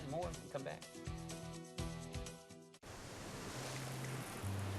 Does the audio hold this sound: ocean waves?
yes